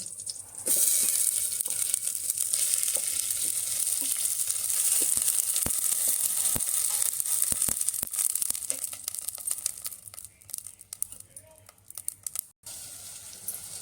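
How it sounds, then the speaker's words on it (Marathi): Washed barnyard millet (vari rice) sizzles loudly and steadily as it roasts in hot ghee, with scattered crackles and stirring clicks, easing to a quieter sizzle near the end. "वरी तांदूळ आपण तुपावर चांगले भाजून घेऊ"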